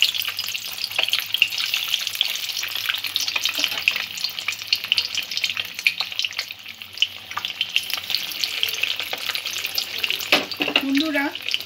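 Food fries in a pan over a medium-low gas flame, making a loud, continuous close-up sizzle with crackling spits and occasional stirring scrapes throughout, with no talk.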